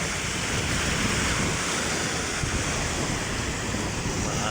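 Sea waves at Manila Bay wash in a steady, broad rushing surf close to the microphone, with some wind noise mixed in and no talking.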